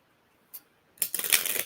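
A deck of playing cards is shuffled during a two-player golf-themed deck-building card game: a brief soft flick, a pause, then a close, dense ripple of cards riffling for over half a second.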